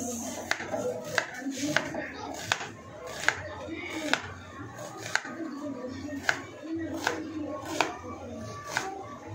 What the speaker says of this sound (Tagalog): Hiwain na natin itong sibuyas.